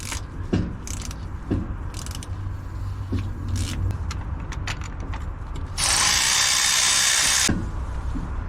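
A hand ratchet wrench clicks in quick bursts while loosening a 7/16 12-point bolt on a car, close and crisp, with a louder, harsher stretch of mechanical noise partway through.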